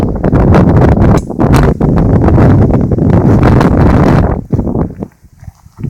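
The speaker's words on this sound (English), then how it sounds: "it's kind of windy out here today." Loud, gusty wind outdoors buffets the microphone in heavy rumbling roars that drop off sharply near the end, leaving quieter scattered rustles.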